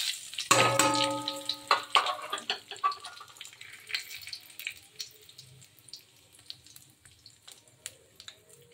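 Bay leaf, dried chili, cumin and a pinch of asafoetida hit hot mustard oil with a loud burst of sizzling at first. The sizzle then settles into a fainter, steady crackle, with no one talking over it.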